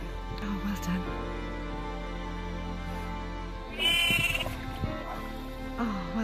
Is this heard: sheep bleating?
yes